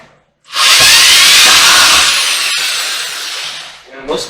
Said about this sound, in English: I like this because it's a variable speed trigger drill,